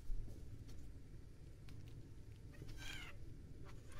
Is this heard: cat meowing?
yes